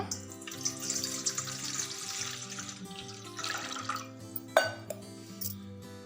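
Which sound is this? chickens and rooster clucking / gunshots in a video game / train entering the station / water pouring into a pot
water pouring into a pot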